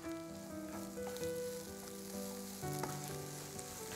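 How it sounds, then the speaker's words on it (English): Fresh coriander is stirred into frying chickpeas and onions, a soft sizzle with light stirring noises heard under sustained musical tones. "I'm going to add in some fresh coriander to this and then give that a stir"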